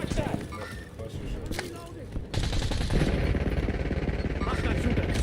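Rapid bursts of video-game gunfire crackle densely and loudly, with a sharp jump in intensity partway through, layered with game voices calling out.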